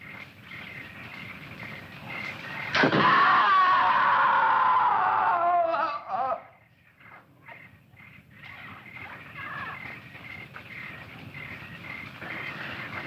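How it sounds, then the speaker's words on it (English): A distant scream rings out in a jungle setting in an old 1961 film, one long shrill high-pitched cry lasting a few seconds before it breaks off, followed by quieter background. "I'm sure I heard a scream."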